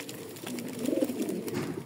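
Breeding male pigeons coo softly in a loft, a short run of low, rolling coos at close range against quiet background noise.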